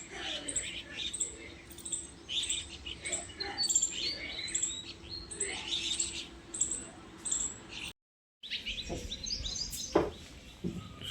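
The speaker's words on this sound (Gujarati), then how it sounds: "પક્ષી બેઠો હોય ઝાડ ઉપર." Small birds chirping from a tree beside a bird feeder in the morning, a steady scatter of light, thin tweets at moderate distance, with a brief gap of silence partway through.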